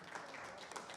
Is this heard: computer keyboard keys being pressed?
no